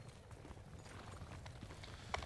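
Horse hooves clip-clop in the video game Mount & Blade II Bannerlord, a faint, steady rhythm of quick hoofbeats under low background game sound, with a small sharper knock near the end.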